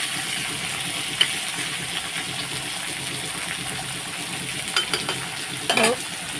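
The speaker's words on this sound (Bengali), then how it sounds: "আলুটা একদম লাল লাল করে আমি ভেজে নেব" Potatoes fry with turmeric in a pan, giving a steady, fairly loud sizzle with a few brief stirring scrapes and clinks near the end.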